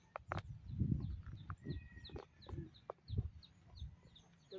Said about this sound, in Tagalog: Aming sisiw.